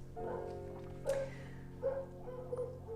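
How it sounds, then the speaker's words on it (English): Dogs barking out in a garden, a few distant yips and woofs in short bursts over a steady background hum. "My dogs are barking at something in the garden."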